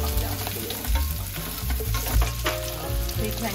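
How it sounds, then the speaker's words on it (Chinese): Taro pieces stir-fry slowly over low heat for a Taiwanese taro rice noodle soup. A close, dense sizzle is punctuated by a few spatula scrapes over a low steady kitchen hum, with no talking. "那我们用小火慢慢的炒"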